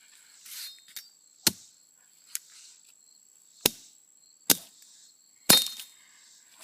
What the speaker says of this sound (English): I can actually cut this down more and make wedges out of it that I would usually use for kindling